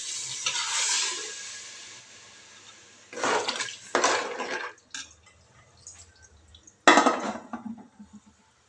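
Water splashes into a pot of rice in short bursts, with metallic clinks and drips between pours; close and moderately loud.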